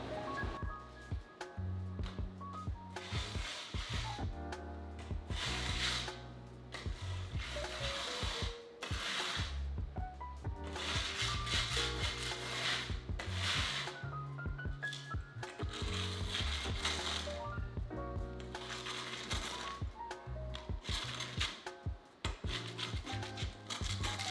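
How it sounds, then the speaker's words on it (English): A small hand scraper works paint off a garage floor after stripper has been applied, making repeated gritty scraping strokes in close bursts with short pauses between them. No voices are heard. "I'm gonna grab this little scraper and we'll see how easily this stuff comes up"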